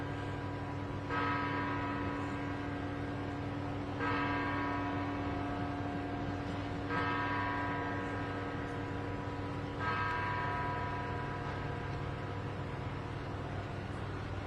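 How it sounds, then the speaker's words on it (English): A church bell tolls four slow, evenly spaced strokes, each ringing out and fading over a steady low hum, with no talking. "I'm going to let the bell finish ringing"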